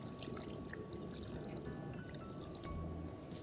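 Water is poured over chicken in a cooking pot, a faint steady splashing and trickling stream that continues evenly for a few seconds with no talk.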